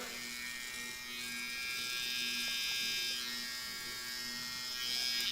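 A Stylecraft Rebel hair trimmer runs steadily at close range, giving off a continuous high-pitched electric buzz with a thin motor whine that holds the whole time and swells slightly in loudness toward the end.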